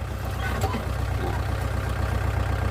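A Yanmar MU51 tractor engine idles steadily while ploughing a rice field, a low continuous rumble with a constant pulsing beat throughout, close and even in level.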